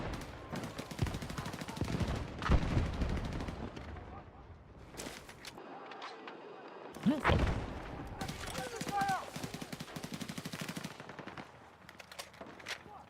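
Sniper rifle and automatic gunfire from a shooter game such as the SV-98 rattles in dense, fast bursts with a couple of short gaps, heavy and near, while someone talks over it.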